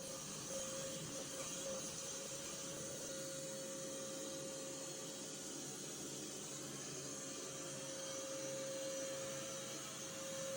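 An LG Roboking AI All-in-One robot vacuum runs its suction while picking up debris such as chocolate and rice grains, giving a loud, steady, unbroken whir with a constant tonal hum.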